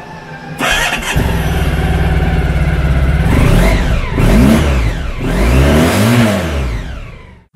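A 1998 Honda ST1100 motorcycle's V4 engine cranks, catches and settles into a steady idle, then revs up in three swelling bursts, loud and close.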